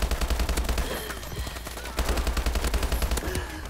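Rapid automatic gunfire from a gun in a video game, loud and close, with quick rhythmic bursts that pause briefly midway and then resume.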